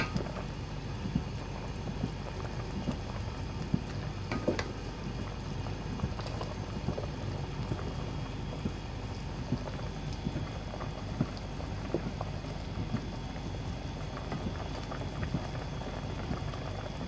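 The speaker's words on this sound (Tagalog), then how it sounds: "Guys, kulong-kulong na po siya." Chicken in coconut sauce bubbles steadily in a covered pot, a dense, even boiling burble with occasional small pops and lid rattles, no voices.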